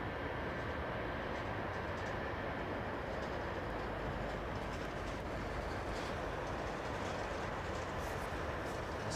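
Bombardier airliner at London Heathrow, creeping forward on a small throttle increase: a constant, dense engine rumble that neither rises nor fades over nine seconds, with no voices.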